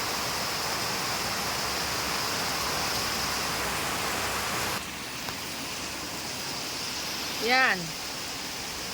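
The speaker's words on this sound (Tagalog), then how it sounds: "Parang binubuhos ang ulan." A torrential rainy-season downpour roars steadily behind a house in rural Philippines, the rushing floodwater dipping slightly midway, and a voice speaks one short exclamation near the end.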